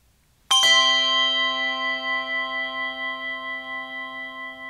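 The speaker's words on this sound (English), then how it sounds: "If you put a bunch of bells together," Several handbells struck together in a church give one bright, loud chord that rings on and slowly fades with a gentle pulsing shimmer, heard alone and close.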